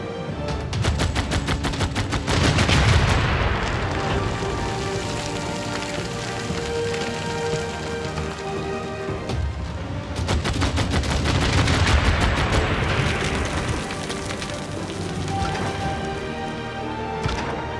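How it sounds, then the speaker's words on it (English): Artillery bombardment in a Warhammer-themed Civilization 6 game: rapid crackling volleys of small blasts in two long bursts, dense and rattling like heavy rain, with a steady din between them and no talk. "continue our bombardment"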